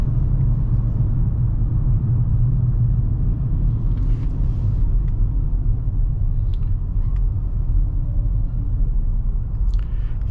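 A car engine rumbles steadily while driving on a highway, with low road noise, tire hum and a few faint clicks and rattles inside the cabin.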